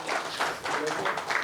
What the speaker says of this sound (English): Applause for Mohan and Ranjan.